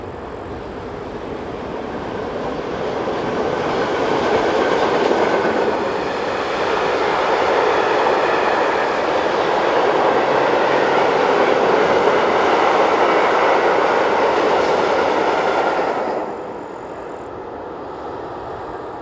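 A Class 1142 electric locomotive train rumbles steadily past at close range in Austria, a sustained loud roar with rhythmic rattling that cuts off sharply as it clears.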